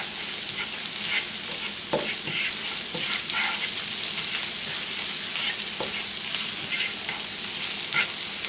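Onions with a teaspoon of thyme frying in a pan, giving a steady, close sizzle with occasional stirring scrapes and faint clinks, no voices.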